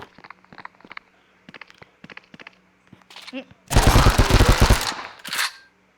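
Video game gunfire erupts as a dense burst of rapid automatic shots for over a second, then a short follow-up burst, after scattered softer clicks and game sounds at the start.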